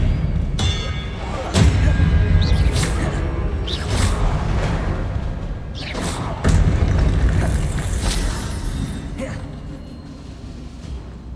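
Spell effects from the wizarding game Hogwarts Legacy, a disarming charm cast amid booming thuds, whooshes and mechanical creaks that recur across the scene at steady loudness, with no talk.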